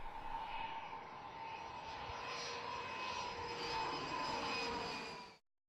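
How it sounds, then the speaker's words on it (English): A fixed-wing jet airplane passes with a steady, loud whooshing roar and a whining tone that swells slightly before being cut off abruptly near the end. "Airplane."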